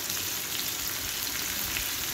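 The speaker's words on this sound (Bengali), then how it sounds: "ডিমটা ভাজা হয়ে গেছে, আমি এখন তুলে নেব।" An egg frying in a pan while cooking a papaya and mung dal dish, giving a steady, close, dense sizzle of hot oil that runs evenly throughout with no talking.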